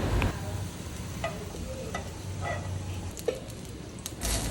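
Ghee heating in a pan, a soft continuous sizzle with a few light scrapes and taps, faint and close with no voices.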